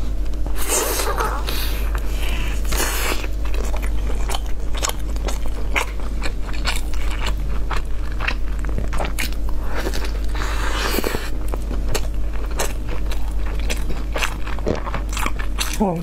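Close-up eating of steamed baozi and luzhu stew, with loud bites, chewing and wet mouth sounds repeating throughout, a steady electrical hum beneath and a few vocal noises between mouthfuls.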